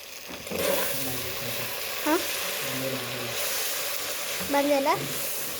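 Soft sizzling of gongura (sorrel) leaves frying and wilting in a pan, with faint stirring and occasional brief voice-like tones over a steady hiss.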